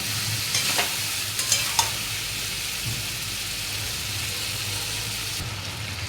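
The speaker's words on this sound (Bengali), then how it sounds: "আর দিয়ে দেবো জিরে গুঁড়ো লঙ্কার গুঁড়ো আর ধনের গুঁড়ো দিয়ে ভালো করে কষিয়ে নেব" Ground cumin, chili and coriander powder sizzle and fry in a pan with bay leaf, a continuous loud sizzle broken by a few scraping stirs early on.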